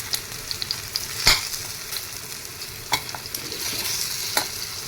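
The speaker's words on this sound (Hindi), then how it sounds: "चारों साइड हल्के हल्के से हमें सौटे करने हैं" Colocasia leaf rolls sauté in a hot pan with a constant crackling sizzle, broken by a few sharp scraping clicks as they are turned.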